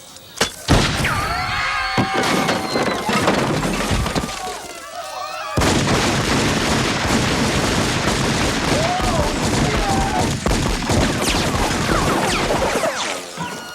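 A film scene with a sniper shooting, heard as loud, dense bursts of gunfire and crashing impacts running almost continuously, with shouting voices mixed into the chaos.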